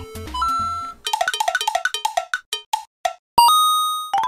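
A LEGO Super Mario Luigi figure plays bright electronic chiptune tones: a short jingle, then a fast run of bouncy beeps slowing into single blips, and a final long ringing tone.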